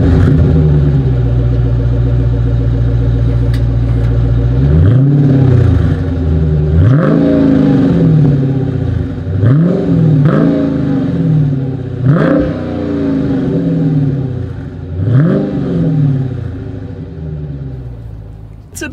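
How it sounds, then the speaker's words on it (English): A 2021 Dodge Challenger Scat Pack's exhaust idles with a deep, loud rumble, then revs sharply several times in a row, each blip rising and falling back to a throaty idle, heard up close and alone. "Here is that exhaust clip."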